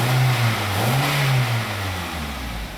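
A 2005 Pontiac Vibe's 1.8-liter four-cylinder runs close up, its note rising and falling through a couple of revs over a steady idle, loud and with no voices.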